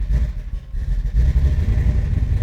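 A 1966 Chevrolet Chevelle engine fitted with Sniper EFI runs loud and close, a deep, steady rumble with slight pulsing through the idle.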